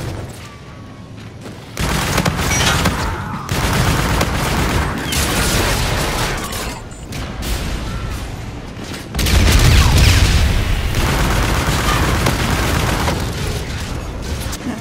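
Gunfire from the UDM submachine gun in Call of Duty: Infinite Warfare, loud dense bursts of shots with booming impacts filling the whole stretch, heavier near the end.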